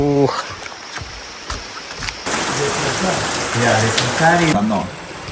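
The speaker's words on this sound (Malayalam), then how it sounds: "മഴ മഴ മഴ." Steady rain hiss swells in partway through in Ecuador and holds for a couple of seconds, with people talking over it before and during the downpour.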